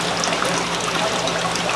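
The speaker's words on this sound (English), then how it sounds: "So if you have it turned upside down, you can see the water's coming out of it." Water trickles steadily out of an upside-down Ziss filter, a close, continuous light dribbling and splashing with no breaks.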